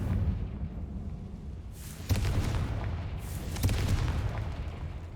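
Two Confringo blasting-spell explosions go off in Hogwarts Legacy as deep booming bursts about a second and a half apart, each ending in a crackling decay over a low rumble.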